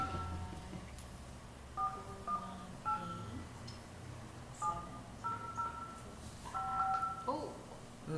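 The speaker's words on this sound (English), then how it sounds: "there we go, the dial tone." Telephone keypad tones beep in short clusters of single and paired notes, dialing into a conference call for a property tax appeals board meeting, with faint room noise and murmuring voices between the tones.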